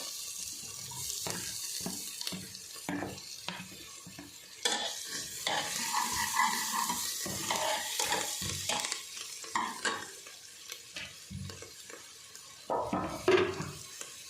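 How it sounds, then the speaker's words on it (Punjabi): Onions and ginger fry in a pan for a bottle gourd curry, with steady sizzling under repeated scraping and clattering strokes of a stirring spoon, fairly close, with no talk. "ਪਿਆਜ਼ ਸਾਡੇ ਹੁਣ ਭੁੱਜ ਗਏ ਹੁਣ ਅਸੀਂ ਇਹਦੇ ਵਿੱਚ ਅਦਰਕ ਪਾਵਾਂਗੇ"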